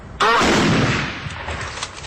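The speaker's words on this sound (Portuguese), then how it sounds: "Isso que você ouviu agora parece um tiro, né? Forte, alto, mas um tiro só." Police Federal snipers firing at the same moment, their shots merging into a single loud, sharp report with a long rolling echo afterward.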